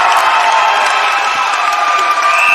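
Crowd at a men's under-17 basketball quarter final between Victoria Reserves and the Australian Capital Territory, cheering loudly and continuously as a dense, close roar.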